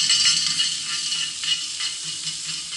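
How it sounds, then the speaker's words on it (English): Steak sizzles on a grill grate over an open campfire, a steady close hiss and crackle that runs throughout with no talking. "get our steak on there"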